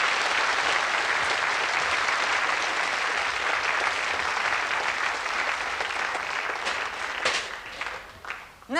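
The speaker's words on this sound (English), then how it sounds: "I'd like a nice big round of applause for 4 very good builders" A studio audience gives a big round of applause for four builders on a 1982 television show, sustained and steady for most of the stretch before tapering off near the end.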